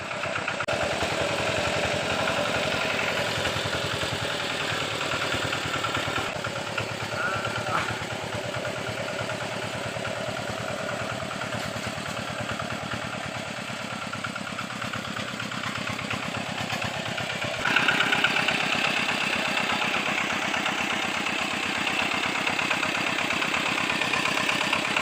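A farm tractor idles at a rural rice farm, its engine a steady low chugging drone throughout, moderately close, with a slight rise in level partway through.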